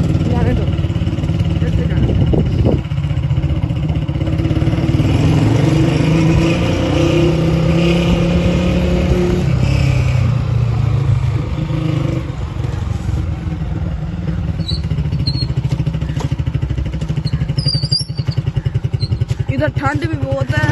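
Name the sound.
motorcycle riding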